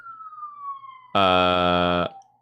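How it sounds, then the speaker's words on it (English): A loud, close police siren blares in a single sustained tone for about a second after a quieter, fading wail, then cuts off. "Sirens on my end."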